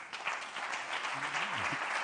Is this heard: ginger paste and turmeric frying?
no